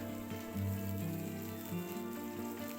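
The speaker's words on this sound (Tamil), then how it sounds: "இப்போ இதில் ஒரு கொத்து கருவேப்பிலை ஆட் பண்ணிக்கிறேன். அதையுமே ஆயிலில் வந்து நல்லா ஃப்ரை பண்ணிக்கலாம்." Curry leaves and green chillies crackle in hot oil for egg curry, a dense, even sizzle with a low steady hum beneath it, faint and unbroken, with no voices.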